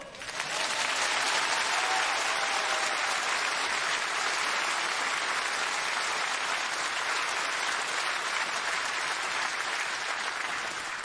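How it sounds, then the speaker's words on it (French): A theatre audience applauds a comedian arriving on stage, with dense, loud, steady clapping that holds for the whole stretch without a break. "généralement, quand j'arrive sur scène, les gens m'applaudissent très fort."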